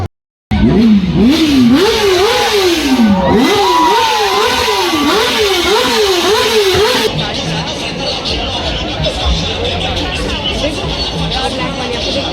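A loud car engine revs repeatedly in rising and falling pulses at a car show, then settles into a rough idle amid crowd chatter and babble.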